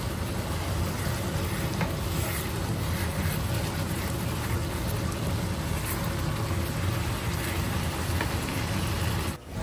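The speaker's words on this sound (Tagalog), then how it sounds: "halo-haloin nga lang natin to hanggang sa matuyuan at lumambot ang bihon" Bihon rice noodles stir-frying in a pan give a steady close sizzle with scraping stir sounds, running continuously until a brief drop at the very end.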